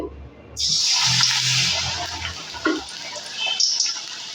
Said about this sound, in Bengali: এইভাবে কিন্তু আমি বড়াগুলোকে ভেজে দেবো